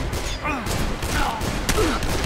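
Gunfire in the video game Dead Island comes as a rapid burst of shots over a dense, thudding background, continuous and fairly loud throughout with a voice talking over it.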